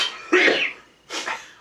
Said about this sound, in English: half sneeze, half cough